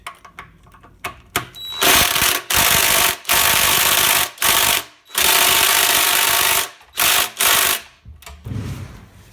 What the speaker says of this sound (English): I'm just gonna use a 10mm socket.